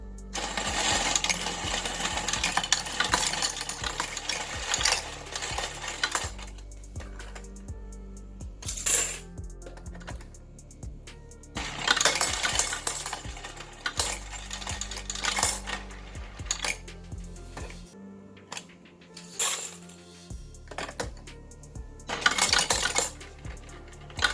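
A Go Plus electric coin sorter and counter runs through a batch of coins, with loud bursts of clattering, jingling metal between short motor whirs and quieter pauses, close up and with no voices.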